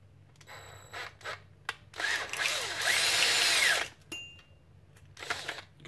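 A power drill whirs steadily for a couple of seconds, drilling out a brass breech part for a Nerf Retaliator, with brief tool clicks and knocks before and after.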